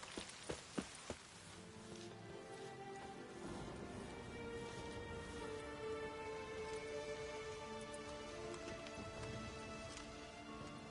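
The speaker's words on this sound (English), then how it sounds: "Raining again." Steady rain in The Witcher 3: Wild Hunt patters continuously, a dense hiss with scattered droplet ticks, after a few sharp clacks at the start.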